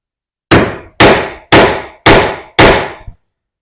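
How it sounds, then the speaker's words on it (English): Five sharp mallet blows on a sash pocket chisel, struck at a steady half-second rhythm while cutting sash pockets in a Georgian sash window box; each hit is loud and close with a ringing decay, alone with no talk. "this is how you would cut them entirely with your Sash chisel."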